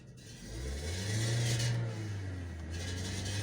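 Renault Scenic 2 engine revving as the gas pedal is pressed, a low hum that rises to a peak and eases back, steady and fairly close, with no talking, from a car that won't drive properly and stalls.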